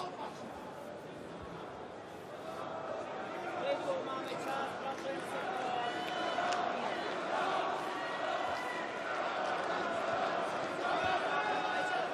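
A Prague crowd at the OKTAGON 31 MMA event applauds and roars as a fighter scores a takedown, a steady, dense swell of arena noise that grows louder after the first few seconds, with a commentator talking over it.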